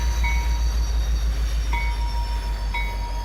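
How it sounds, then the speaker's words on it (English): A train in Farming Simulator 25 slows to park on modded ZCA Railroads track, a deep continuous engine rumble with rhythmic wheel clatter and faint high brake squeals recurring at intervals, steady and close. "I'm just gonna park my train back down here"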